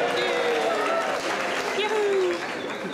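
A large cruise ship audience cheers, claps and stomps in a loud, continuous crowd roar, with a voice speaking over it and whoops rising above the din.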